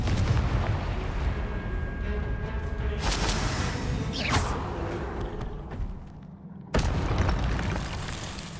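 Confringo blast spell in Hogwarts Legacy: loud, rumbling booms of fiery explosions in a continuous barrage, with a sudden sharp burst after a brief dip.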